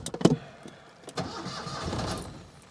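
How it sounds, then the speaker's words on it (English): A Citroen 2CV's engine cranks over in a short burst, then a rough, uneven idle or revving follows, moderately loud and close, with no talk. "start the engine. We shall roll forward."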